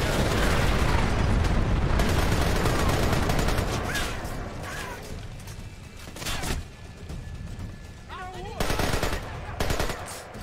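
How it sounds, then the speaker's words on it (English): A frag grenade explodes in Splinter Cell: Conviction with a loud, dense blast amid rapid gunfire, and scattered bursts and pops follow as the din thins out. "Let's toss a frag that doesn't roll."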